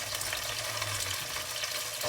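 Porcini mushrooms, potato and onion fry together in a pan and get stirred, giving a steady close sizzle with soft scraping stirs and a few low knocks, no talking.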